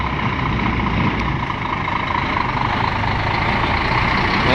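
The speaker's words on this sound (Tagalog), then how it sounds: "Yan ang mga malalaking truck na yan galing sa ano" Big trucks rumble past steadily on a road, a continuous broadband roar of heavy engines and tires at close range with no pauses, and almost no voices.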